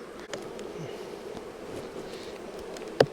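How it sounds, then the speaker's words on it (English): A busy honey bee colony hums around an old, partly rotten blue hive box, a steady mid-pitched buzz with a few louder bees passing close and a sharp knock near the end. "the colony is very busy"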